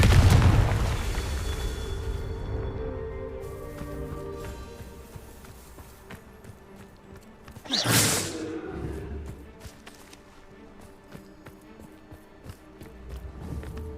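Confringo spell blasts in Hogwarts Legacy, a hard boom at the start fading into a rumbling tail, then a rushing whoosh-burst midway, with ringing game effects between.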